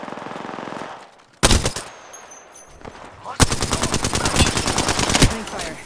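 Video game gunfire, with bursts of rapid automatic shots starting partway through and returning as a long sustained volley, loud and close, with brief game voice lines in between.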